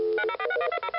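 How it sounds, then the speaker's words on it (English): Rapid telephone dialing tones play in a video game, a quick run of about eight short, clear beeps close up, with no talk over them. "Ooh. Phone noises."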